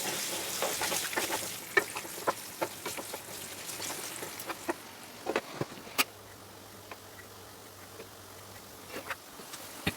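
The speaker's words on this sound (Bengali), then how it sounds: "এবার লাল লাল করে ভেজে নেব" Mutton frying with turmeric until reddish brown, with a quiet crackling sizzle and scattered sharp pops and clicks of stirring that ease into a fainter hiss with a low hum.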